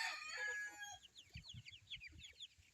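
Rhode Island Red, Black Australorp and White Sussex chickens in a backyard flock, with a rooster's crow fading at the start, then soft, low, irregular clucks close by.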